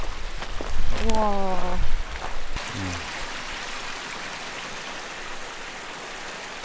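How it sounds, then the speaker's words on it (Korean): A creek runs near a mountain campsite in a remote valley near Chuncheon, a steady rushing flow that continues throughout, with an excited voice briefly exclaiming over it early on. "계곡은 아니고 여기 냇가 같은 게 있어서요."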